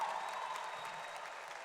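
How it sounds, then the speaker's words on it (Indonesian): Applause from an audience at a televised debate-style event, faint and distant, a soft continuous wash of clapping with no voices over it. "Tepuk tangan dong yang meriah, boleh?"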